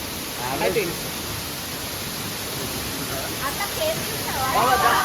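A waterfall near Goa roars as a steady, dense wash of rushing water, close and continuous, with faint voices breaking through now and then.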